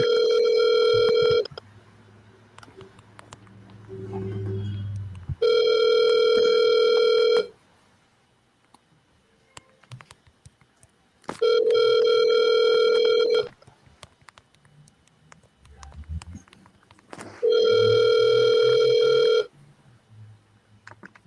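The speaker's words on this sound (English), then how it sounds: "Call Montel Hardy" Ringback tone of an outgoing phone call, four loud two-second rings separated by roughly four-second gaps of near silence with faint background noises.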